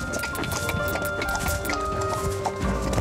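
Horse hooves clip-clop in a quick, steady rhythm on a hard surface, close by, with a little background noise.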